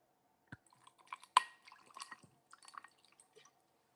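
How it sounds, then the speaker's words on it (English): A late-night drink is poured into a glass in a quiet room, giving a sparse series of small drips, splashes and glassy clinks, with one sharper clink near the middle. "There's the late night pour."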